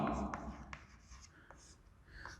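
Pen writing on paper while working a Class 7 maths exercise, a few faint scratchy strokes in short bursts, quiet and close, with a voice briefly present.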